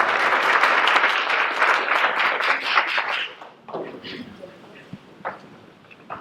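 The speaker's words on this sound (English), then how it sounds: "Everyone give a round of applause." Audience applause at a speech event on a public lecture tour, a dense, loud burst of clapping for about three seconds that then thins to scattered claps and fades into quieter room noise.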